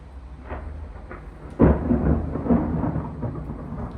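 Thunder during a heatwave storm: a sudden deep rumbling crack that rolls on for a couple of seconds after a quieter stretch, heard alone with no talking.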